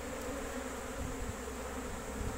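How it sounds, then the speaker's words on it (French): Honeybees buzz in a steady, continuous drone around a hive during swarm handling, close and moderately loud with no talk. "Et les abeilles le suivent."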